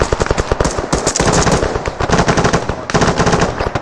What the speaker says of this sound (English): Return fire northeast.